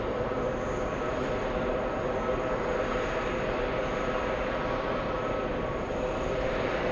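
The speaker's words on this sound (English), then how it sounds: "Taxiing towards us right now, we have Delta Airlines A321 flying in from Seattle" A Delta Airlines A321 airliner taxis at JFK airport, its jet engines giving a steady, loud, continuous roar with a faint high whine, unbroken for the whole stretch.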